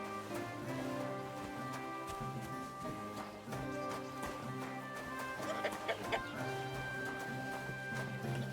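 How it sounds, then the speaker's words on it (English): Chickens cluck in a medieval town in Kingdom Come Deliverance 2, a few soft clucks over a steady bed of game music and ambience, with no talk. "Can't grab chicken."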